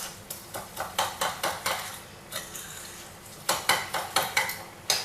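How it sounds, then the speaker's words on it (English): Butter and sugar get mixed in a bowl, with a utensil scraping and tapping against its sides in quick, regular strokes that pause briefly before resuming, close and fairly quiet with no talking. "So I mix it all up and make sure it's all about the right consistency"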